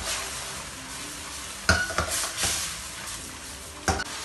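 Choy sum and shiitake mushrooms are stir-fried in a wok with garlic, sizzling softly in oil under several sharp scrapes and clanks of a spatula against the metal.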